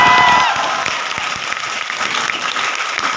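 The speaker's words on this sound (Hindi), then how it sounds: "सुनो सर कह रहे ताली बजाओ मेरे लिए।" Students clap together at a Lucknow vidyapeeth event, producing a dense, steady burst of applause that starts loudest and carries on evenly for a few seconds.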